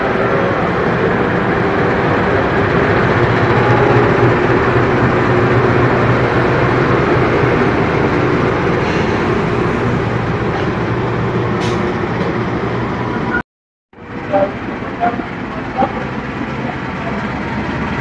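A lone locomotive returning without a train passes close by on a railway line in Indonesia, a loud steady rumble and roar of wheels on track that fills the clip, then cuts out abruptly near the end before resuming briefly.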